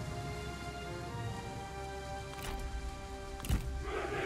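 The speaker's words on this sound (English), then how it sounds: "Raining." Rain in the video game Total War: Three Kingdoms, a steady hiss of rainfall over a low battlefield ambience with a couple of brief louder bursts.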